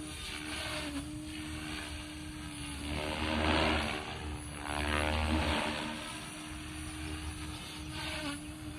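A SAB Raw 420 RC helicopter fitted with Rotortech Ultimate blades flies at low head speed, a steady rotor whine and buzz that swells and fades as it passes nearer and farther, moderately loud throughout.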